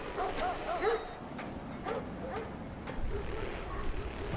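Dogs barking in a video game, a few short yips and woofs spread across the stretch over a steady ambient game bed, moderately distant and not very loud, with no talk over them.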